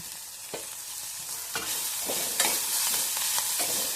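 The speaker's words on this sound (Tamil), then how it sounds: "அந்த சூட்லேயே வெள்ளரிக்காய், கேரட்டு, கொத்தமல்லி எல்லாத்தையும் போட்டு கலந்துக்கலாம்." Cucumber, carrot and coriander stirred into warm cooked toor dal sundal off the heat, with soft scrapes and clinks of a spoon against the pan and a faint residual sizzle, close by and without speech.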